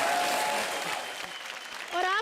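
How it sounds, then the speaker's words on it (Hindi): Studio audience applauding at a televised Hindi comedy show, a dense steady clapping that fades slightly midway, with a voice speaking over the end. "जोरदार तालियां"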